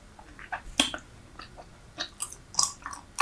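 Super Bubble bubble gum chewed close to the mic, with irregular wet smacks and squishy clicks spaced apart over a quiet background, with no talking.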